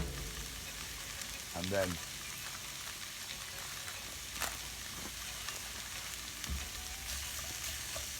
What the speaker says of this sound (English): leave that to break down in the pan with the rest of the vegetables, giving it all a good stir, mixing everything together